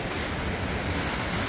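Sea waves roll onto a Baltic beach on the Vistula Spit, a loud, continuous wash of surf with wind noise buffeting the microphone and no voices.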